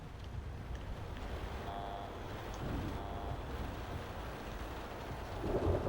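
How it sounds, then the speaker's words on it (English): A heavy thunderstorm with steady, dense rain hissing throughout, low rumbling underneath and a swell of louder downpour near the end, with no voices present. "The storm's never been this bad before."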